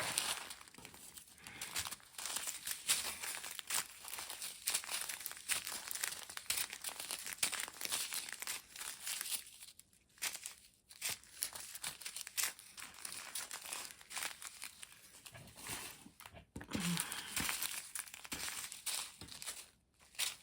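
Plastic packaging from a diamond painting kit crinkles and crackles continuously at close range as it is rolled over, with brief pauses and a few sharper crunches.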